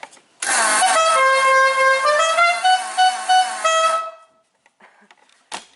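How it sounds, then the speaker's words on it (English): A loud, sustained vehicle horn blares for several seconds with a few brief pulses near the end, then cuts off, leaving quiet. "I gotta honk the horn"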